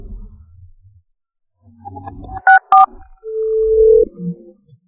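A telephone handset gives two short beeps, then a steady dial tone for about a second before a call is placed. The tones are clear against near silence.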